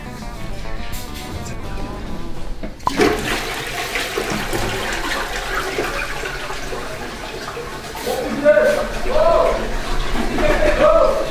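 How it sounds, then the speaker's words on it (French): A toilet flushes loudly and close by, a sudden rush of water swelling into a long, churning gush and refill, while a voice talks over it toward the end. "on va aller tirer la chasse"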